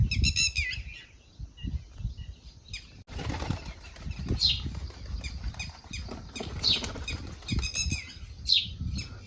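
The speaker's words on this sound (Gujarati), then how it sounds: "કબૂતર તો બહાર નીકળ્યું છે" A pigeon flaps its wings in bursts after being let out, close and busy, with brief squawky chirps and rustling between the flurries.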